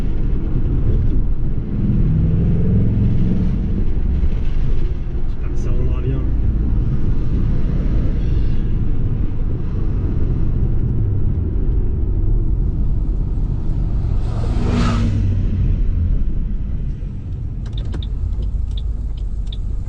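Deep, continuous engine rumble of a Ford Mustang Bullitt idling close by, with a throaty rise partway through and voices talking underneath.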